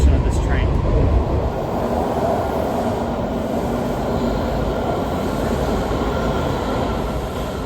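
A DC Metro Silver Line train riding along, a steady loud roar of wheels and motors with continuous rumble and hiss, heard from inside the car throughout.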